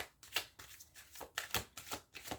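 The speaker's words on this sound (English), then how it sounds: "Let me shuffle the deck one more time." A deck of tarot cards is shuffled by hand in a series of quick, soft riffling bursts, about six close rustling pulses in a quiet room with no talking.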